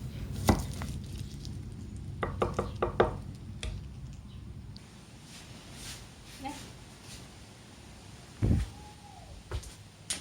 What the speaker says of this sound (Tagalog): naghiwa ng sibuyas